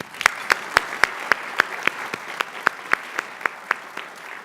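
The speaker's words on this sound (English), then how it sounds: "A round of applause." Applause from an audience at the 2014 Lasker Awards ceremony, heard as a sparse run of separate, sharp claps at a fairly steady pace rather than a dense ovation, moderately loud and close.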